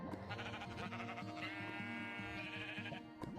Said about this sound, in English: It sounds like a sheep.